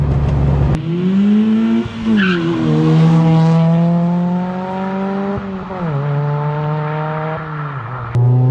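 A hot hatch's engine revs hard through rising and falling harmonic sweeps across several gear changes, loud and close, with a few sharp pops from the catback exhaust when the throttle lifts.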